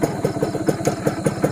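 A troubled motorcycle engine idles close by, its rough, uneven thumping pulses beating in a quick, slightly irregular rhythm with no voices over it.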